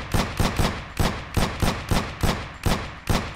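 Gunshots in the Aim Lab aim-trainer video game, about a dozen sharp close shots at a quick, slightly uneven rhythm, heard alone.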